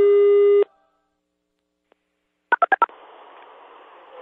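A telephone tone cuts off, then after a pause comes a quick run of four touch-tone dialing beeps, followed by a faint steady line hiss.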